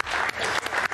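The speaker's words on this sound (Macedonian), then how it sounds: "Еден аплауз." Applause from a television studio audience, a short burst of steady clapping with a few brief dips in level.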